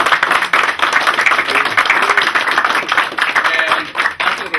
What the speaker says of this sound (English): I think we owe them a round of applause